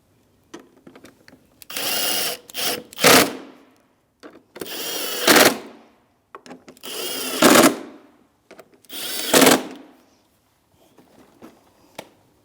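A 7mm socket on a powered driver runs speed bolts into the bumper clips of a 2016-2025 Chevrolet Malibu, giving four loud, close whirring bursts of one to two seconds each, separated by quiet pauses and light clicks.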